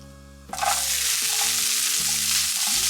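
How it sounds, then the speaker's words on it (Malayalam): Sliced onions drop into hot oil with frying urad dal for a cabbage thoran, bursting into a loud, steady sizzle that continues with faint stirring scrapes. "ഇനി നമുക്കിതിലേക്ക് സവാള ചേർക്കാം."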